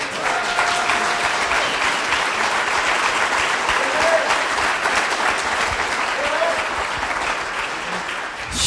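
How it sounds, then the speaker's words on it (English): A conference audience applauds steadily throughout, a dense, even wash of clapping at moderate volume with no break, closing a community choice energy symposium. "I hope you will give him another round of applause."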